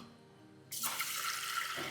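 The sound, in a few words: water poured to wash lentils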